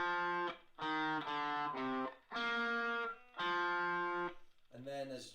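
Guitar playing a section of the Star Wars theme, with separate note groups split by short gaps, moderately loud and near, no voice.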